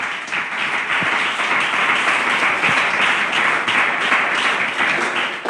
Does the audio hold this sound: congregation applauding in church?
yes